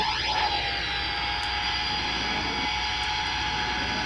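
Ilyushin IL-62 jet engines in Flight Simulator X whine at a steady, loud pitch, a constant airliner roar with a high tonal hum and no talking.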